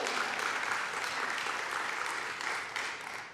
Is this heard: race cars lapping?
no